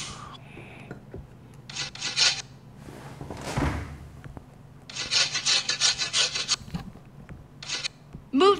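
Chocolate rubbed across a grater in a cooking video game, several short bursts of rasping scraping separated by pauses, close and clear.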